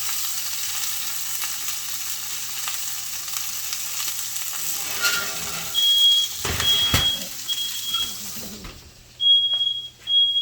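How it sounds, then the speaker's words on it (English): A smoke alarm sounds in a smoky home kitchen during cooking of surf and turf, its high electronic beeps coming in repeated bursts over a steady sizzling, frying background. "I'm going to take care of this fire alarm here."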